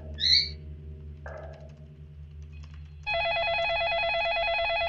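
Telephone ringing in the game Facade, a steady electronic ring that starts partway through and holds loud and continuous to the end, after a brief bird-like squawk and a low ambient hum.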